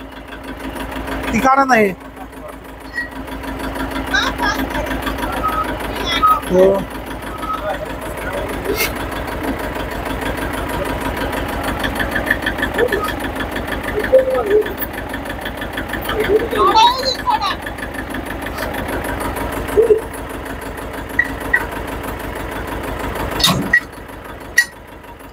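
A farm tractor's engine runs in reverse, giving a steady low diesel hum that holds throughout, with occasional louder knocks and clanks, while someone talks over it.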